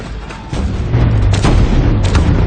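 A huge siege cannon fires at a city wall. A heavy, sustained, rumbling boom is loud and close, with the roar swelling after an initial surge.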